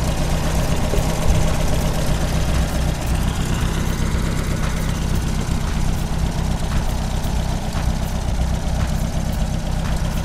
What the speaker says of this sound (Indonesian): Ini perhatikan, masih bagus mesinnya.